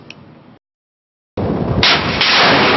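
A Thai navy ship's gun firing at a drone target: a sudden, loud, sustained blast roaring on after a moment of silence, heavy and close.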